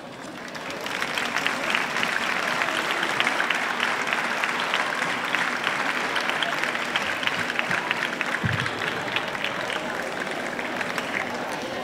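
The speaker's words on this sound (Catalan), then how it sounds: "es demana que les rebem amb un calorós aplaudiment a totes elles" An audience at a festival presentation breaks into sustained warm applause, a dense even wash of clapping from a large crowd that runs without a break from start to finish.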